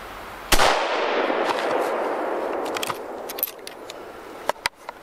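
A single sharp rifle shot from a Heym Ruger No 1, loud and close, ringing out over an outdoor range and fading slowly, followed by faint clicks and small knocks.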